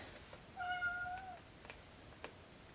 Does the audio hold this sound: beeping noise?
no